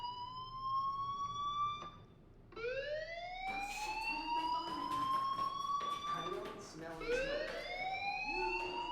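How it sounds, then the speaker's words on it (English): A school fire alarm rings in the video game Life Is Strange, a loud rising and repeating siren wail cycling several times, with muffled voices and game sounds underneath. "do you hear that fire alarm?"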